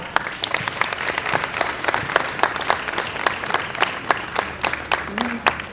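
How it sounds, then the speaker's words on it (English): A crowd applauds at an outdoor Brooklyn Day recreation celebration on a pier, dense steady clapping with sharp individual claps standing out, a voice briefly audible near the end. "A round of applause to you as well."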